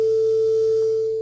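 Raw software synthesizer tone with no modulation applied: a single steady, piercing sine-like pitch held unchanged for just over a second, loud and alone.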